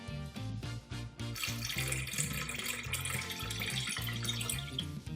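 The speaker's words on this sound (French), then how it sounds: "versez 2 sachets de poudre de nettoyage dans le réservoir de nettoyage et remplissez avec 400 ml" Water pours steadily into the cleaning reservoir of a Kangen K8 water machine, a close, continuous splashing and gurgling fill with rhythmic bubbling, no voices.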